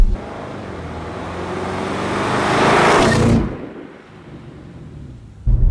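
Audi RS6 Performance car accelerating hard from a stop with no launch control, a deep engine roar building loudly over about three seconds, then cutting off abruptly into quiet.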